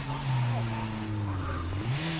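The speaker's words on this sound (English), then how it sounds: "You gotta love that survey car." Survey car from a zombie survival video game drives along, its steady engine hum and tire noise running close and continuous throughout, with faint speech in the background.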